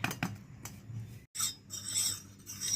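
A spoon scrapes and rasps around a cup, stirring custard powder into a paste for fruit salad in repeated close, gritty strokes with no talking.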